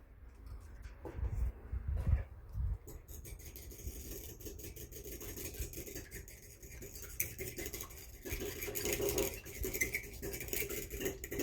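Two eggs are whisked for scrambling, a steady quiet run of rapid utensil clicks against a bowl with a low background hum.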